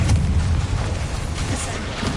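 A Confringo fire spell blast in a Harry Potter video game gives a loud, booming explosion with a deep rumble that fills the short stretch, with a voice speaking over it.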